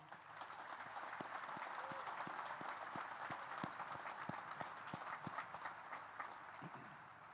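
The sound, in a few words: crowd applause at Naval Academy graduation ceremony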